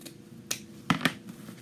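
Scissors trim garland material for a mantel decoration, giving a few quick, crisp snips close by, quiet and isolated with no talking.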